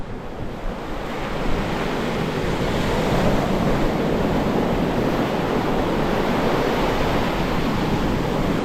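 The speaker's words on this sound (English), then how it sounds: "if the wind wasn't so violent right now and the waves weren't so crazy" Violent wind and crashing waves at Santa Maria beach, Cuba, a loud, continuous roar of surf and gusting wind buffeting the microphone, with no voices.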